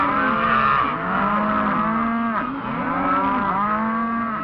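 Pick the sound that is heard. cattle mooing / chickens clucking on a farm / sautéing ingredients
cattle mooing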